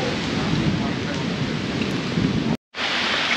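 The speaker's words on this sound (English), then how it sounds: "There's a proper thunderstorm and rain going on" A heavy thunderstorm at night pours steady, loud rain in a dense, unbroken hiss, cutting out to silence for a split second near the end before resuming.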